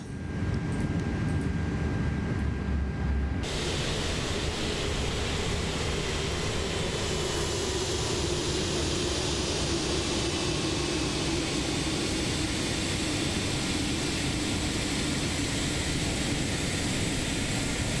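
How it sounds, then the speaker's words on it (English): Airbus A330-200 jet engines in the MSFS 2024 flight simulator winding down after shutdown: a loud, steady broadband roar and whine that holds throughout, brightening sharply after a few seconds, with no talk over it. "Let's shut down those engines."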